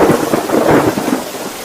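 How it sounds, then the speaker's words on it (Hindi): Heavy rain pours down in a thunderstorm, with deep rolling thunder rumbling close and loud beneath the dense, constant hiss of the downpour. "बचा लीजिए इस बारिश से"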